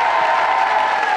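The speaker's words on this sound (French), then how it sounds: "Et encore des applaudissements pour la performance de Jean-Marc." Studio audience applause at a 1997 French TV show fills the short moment as a dense, loud, even wash of clapping from a large crowd.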